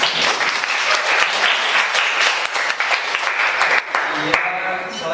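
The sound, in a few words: applause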